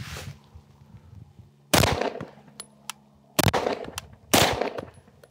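Handguns fired at a shooting range while comparing a red dot sight with iron sights: three loud, sharp reports spaced apart, with a few fainter pops from other shooters nearby.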